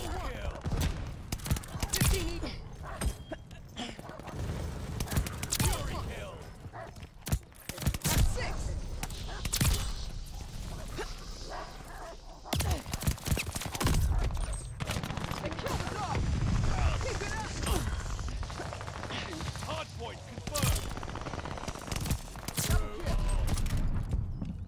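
Rapid gunfire from a new DLC weapon in the Call of Duty Vanguard video game, with sharp shots cracking in fast bursts again and again over about twenty-five seconds, loud and close, and a player's voice talking at times.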